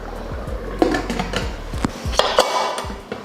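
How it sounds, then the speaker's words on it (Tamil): Pressure cooker lid set onto a pot of simmering gravy kurma: several metallic clanks and scrapes as the lid is fitted and twisted, irregular knocks close by over a faint background bubble. "இப்போ குக்கர் மூடி போட்டுடலாம்"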